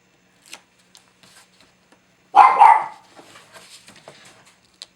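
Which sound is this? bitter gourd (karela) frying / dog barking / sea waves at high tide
dog barking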